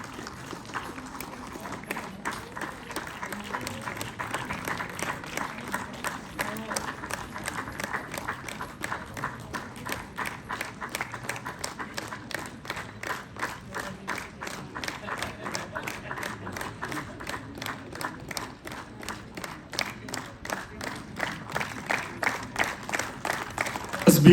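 An audience at a student union freshers' meet claps together in a fast, rhythmic beat, a steady crowd of hands keeping time for the whole stretch and swelling louder toward the end.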